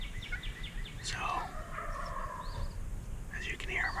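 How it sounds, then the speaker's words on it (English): Wild turkeys gobble from their roost trees at sunrise during a hunt, about 200 yards away across a cut field. A few distant, moderately faint gobbles rise over steady outdoor ambience. "we're set up underneath some gobblers up here in the trees"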